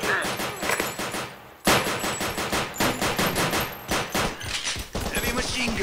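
Heavy machine gun fire in the video game Crisis VRigade 2, loud sustained bursts of rapid shots with a brief pause near the middle, dense and close throughout.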